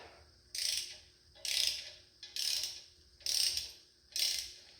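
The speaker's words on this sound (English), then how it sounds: "we're going to tighten them up at 40" Ratcheting torque wrench tightening bolts on a rebuilt V8, five separate bursts of rapid clicking at a steady rhythm, close and clear with no talking.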